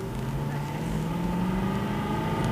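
An Aston Martin V8 Vantage engine drones steadily with a rising tone, revving up continuously without pause as it pulls away, close and fairly loud.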